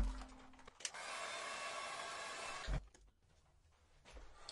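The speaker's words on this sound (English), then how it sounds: "Hit it with a dryer again." A hair dryer blows steadily on a watercolor painting for about two seconds, a loud broadband whoosh that cuts off abruptly, followed by quieter handling noises.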